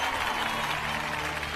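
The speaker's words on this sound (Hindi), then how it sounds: "बजाओ ताली" Steady, dense applause from a crowd in a dubbed South Indian movie scene, continuous and fairly loud throughout the short moment.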